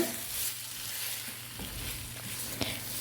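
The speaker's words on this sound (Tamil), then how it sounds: "இப்போ இறா சேர்த்துட்டு நல்லா ஒரு 10 to 15 செகண்ட்ஸ் நல்லா மசாலாவோடு மிக்ஸ் பண்ணி விட்டுக்கோங்க" Prawns stirred into masala in a hot pan for prawn kulambu give a steady close sizzle with a few soft scraping clatters of the spoon, and no voices.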